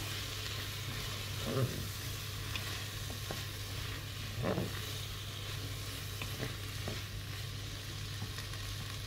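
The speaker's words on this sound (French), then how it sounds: "Là, les oignons sont en train de dorer." Chopped onions fry and brown in a Cookeo electric pot, giving a steady soft sizzle with a couple of brief louder crackles and stirring scrapes, heard alone without talk.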